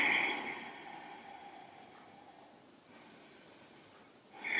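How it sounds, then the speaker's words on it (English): Slow, deep breaths in a yoga pose with arms raised, a strong exhale at the start and a soft inhale building again near the end, close and quiet with no talking. "Let's take 4 breaths here."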